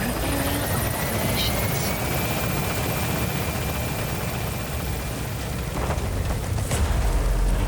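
The Pequod helicopter from Metal Gear Solid V climbs away, its rotors thumping in a loud, steady roar with a faint rising whine, close and continuous, with game speech faintly underneath.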